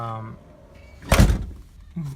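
A car door closing over a routed DVR camera cable gives one solid thump at mid-clip, with brief talk just before and after.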